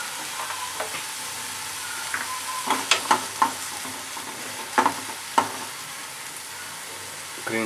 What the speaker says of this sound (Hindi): प्याज टमाटर भुन गए हैं, अब मैं अदरक लहसुन का पेस्ट डाल रहा हूँ।